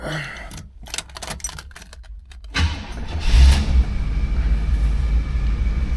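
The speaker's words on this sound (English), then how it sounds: "We'll go ahead and get the Delta started up." A 1975 Oldsmobile Delta 88 cold-starts: a few seconds of clicking and cranking, then the engine catches with a loud low rumble that settles into a steady, close idle.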